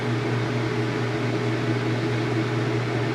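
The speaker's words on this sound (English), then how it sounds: "Now it's doing its spin." A high-efficiency washing machine spins up to speed with a constant steady hum and whirring drone, fairly loud and unbroken, with no one talking.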